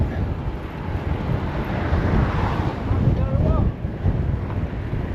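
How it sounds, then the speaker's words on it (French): Strong side wind from three-quarters ahead roars and buffets the microphone in continuous low gusts, loud and close, with no clear talk, while crossing the Loire near Nantes. "Avec beaucoup de vent sur le côté, 3/4 de face."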